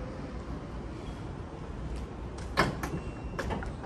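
The automatic power frunk of a 2021 Tesla Model 3/Y motors shut over a steady low whir, ending in a few short mechanical clicks and a soft latch near the end.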